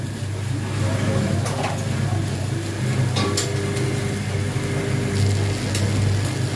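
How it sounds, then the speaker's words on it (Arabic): Onions sizzle as they fry in a pan, a continuous close hiss and crackle with a low background hum and a few sharp clicks and clatters. "وهسيبه بقى لغايه لما البصل تحمر"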